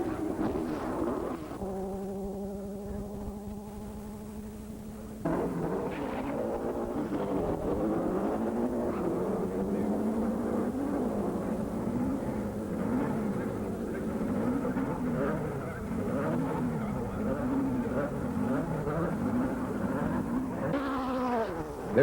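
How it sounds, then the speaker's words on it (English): VW drag race cars at Bakersfield Raceway in California, a steady engine tone giving way to a loud sustained roar with wavering pitch as the cars run, fairly distant. "Let's sit back and watch a little racing action now."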